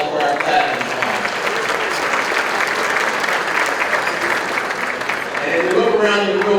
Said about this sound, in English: How about a round of applause for our platinum sponsors?